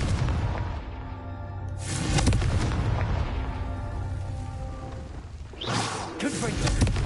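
Confringo fire spell blasts in Hogwarts Legacy: a few heavy booming explosions with whooshing bursts, loud and close, layered over a continuous game soundtrack.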